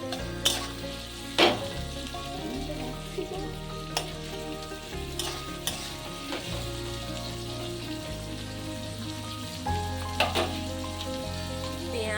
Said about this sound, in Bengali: পেঁয়াজ রসুন টমেটো ভালো করে এখন কষিয়ে নেওয়া হচ্ছে